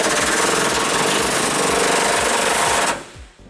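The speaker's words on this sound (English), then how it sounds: "we're going to loosen up the other bolt on our frame using an 18mm socket as well" An impact tool or ratchet working an 18mm socket on a frame bolt of a 2009 Ford Ranger: rapid, loud, even hammering bursts for about three seconds, then it stops abruptly.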